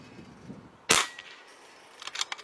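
One sharp, loud rifle shot rings out close by during a test of a Discovery ED PRS GEN2 5-25x56 riflescope, followed by a fading tail and faint clicks.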